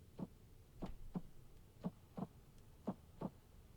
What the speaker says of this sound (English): Is that your heartbeat?